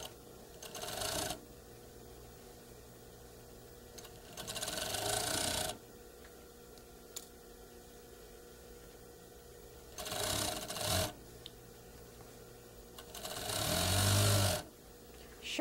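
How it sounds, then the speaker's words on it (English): A sewing machine stitches a long collar seam on a draped garment front in four separate bursts, each running a second or more, with quiet pauses between and the last burst the longest and loudest. "Fronts are long, so it takes a little longer to stitch this seam."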